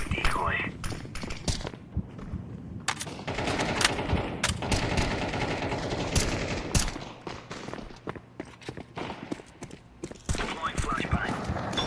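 A decoy grenade in the Counter-Strike 2 shooter game rattles off fake gunfire, rapid cracking bursts spread across the span, with a voice talking now and then over them.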